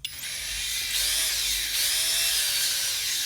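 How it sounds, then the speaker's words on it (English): A cylinder hone spins at slow RPM inside a BSA Fury SS motorcycle engine barrel, driven by a power drill with a steady close whine and a grinding hiss that rises slightly as it works in and out. "we're set up here with ready to hone, and what we're aiming is to do is to create a diamond cross hatch"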